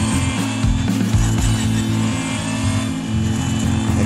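Porsche 911 GT1-98 race car in Real Racing 3 gameplay, its engine droning loud and steady as it revs and shifts pitch through corners, with a faint tire squeal.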